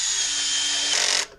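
A power drill drives screws while reassembling a Craftsman handheld leaf blower, giving one steady high whirring run that stops abruptly near the end, close and loud with no talk.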